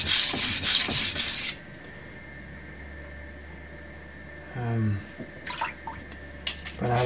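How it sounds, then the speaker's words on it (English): A blade is drawn over a coarse 180 grit Suehiro whetstone in a few quick, loud rasping strokes, then a quiet pause before more short, scraping passes. "So if this is a 180 grit stone, which is quite coarse."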